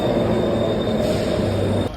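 A Kolkata metro train at a station platform, giving a steady, loud rumbling drone with a high electrical whine held throughout, ending abruptly.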